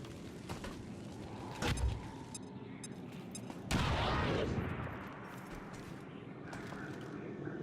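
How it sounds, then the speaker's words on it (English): A grenade goes off in the XCOM 2 War of the Chosen tactical game: one short blast, then a louder, broader explosion with a lingering rumble, all over a steady background of game sound. "Throwing grenade!"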